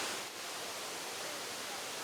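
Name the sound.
Kuang Si waterfall rushing water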